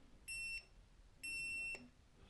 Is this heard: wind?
no